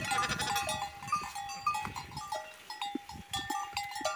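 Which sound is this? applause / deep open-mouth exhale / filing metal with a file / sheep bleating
sheep bleating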